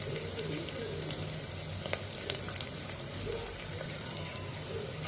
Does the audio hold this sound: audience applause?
no